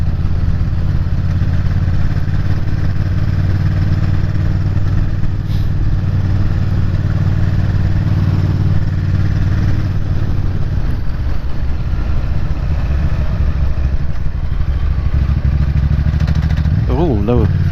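A big twin motorcycle engine lugs and bogs in too high a gear on the Llanberis pass in Wales, giving a loud, continuous low throbbing rumble with wind noise throughout and a rider talking over it.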